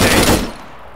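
Gunfire in a shooter video game: a short, loud burst of rapid shots that cuts off into a fading tail, with no speech.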